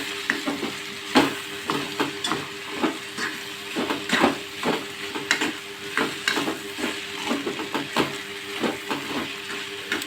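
Boiled potato and vegetables being mixed in a pan for veg puff filling, a continuous run of rhythmic scraping stirs over a soft sizzle and a steady tonal hum, close and moderately loud.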